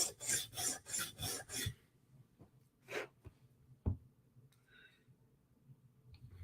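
Blade sharpening strokes on a 150 grit stone, a run of quick rhythmic rasping passes up front, then a few isolated scrapes and taps spaced out in a quieter stretch.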